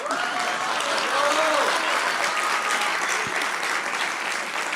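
Audience applause at a book presentation, steady and dense clapping from a crowd throughout, fairly near, with a voice faintly mixed in.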